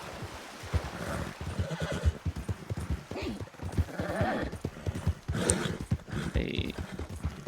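A horse in the video game Red Dead whinnies and its hooves clip-clop as a rider dismounts beside a lake, with someone talking over the game sounds throughout.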